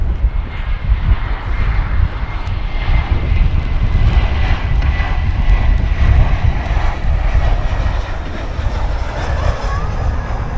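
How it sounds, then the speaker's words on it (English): An Airbus A319 jet in America West livery heading to Albuquerque rumbles loudly at DFW airport, a steady roaring engine noise that persists throughout without pause. "That's an A319 headed to Albuquerque."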